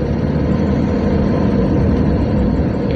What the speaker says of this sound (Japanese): エンジンが吸気音もすごい聞こえますね